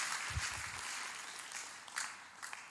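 A church congregation claps in a steady wash of applause that fills the room, with a low voice briefly under it at the start and a few sharper claps standing out later.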